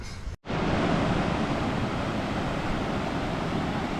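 Small ocean waves roll in at Cardiff by the Sea, California, heard as a steady, full wash of surf noise after a brief dropout at the start, with no voices.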